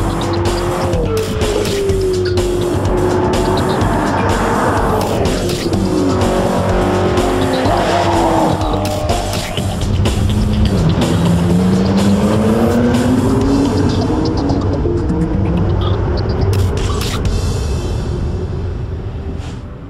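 A McLaren MP4 12C supercar on a test track roars continuously at close range, engine pitch rising and falling through gear changes, with tire squeal and skidding as it corners hard.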